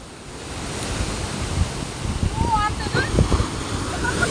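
Stormy sea waves crash and wash in a continuous broadband roar, with a few faint, distant voices shouting underneath.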